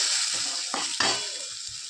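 Masala and capsicum frying in a pan, a steady close sizzle broken by a couple of sharp scrapes and stirs, no talking.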